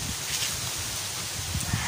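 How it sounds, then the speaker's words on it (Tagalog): Strong wind gusting through coconut palm trees outdoors, a broad rushing noise with low buffeting thumps against the microphone, continuous throughout. "Ayan, malakas ang hangin."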